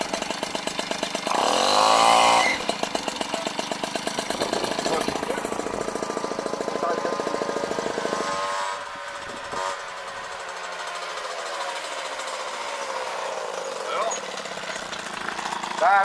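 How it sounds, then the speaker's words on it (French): A mower's engine drive belt slips and squeals, a loud continuous mechanical drone with a harsh chattering rasp that eases partway through, while people talk over it. "la courroie, ouais, elle patine bien là"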